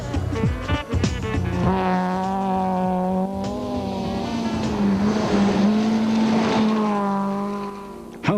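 Toyota rally cars climbing a mountain road at a rally event: a loud, close engine drone rising and falling in pitch as gears change, sustained throughout with brief sharp noises at the start.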